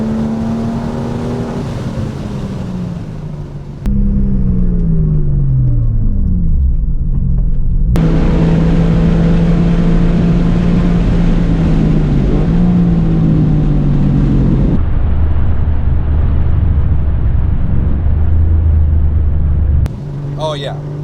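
Porsche 996 911 on a road, engine note falling steadily as the car slows hard from speed, with a loud rumbling cabin drone and a gear change partway, then a lower steady hum.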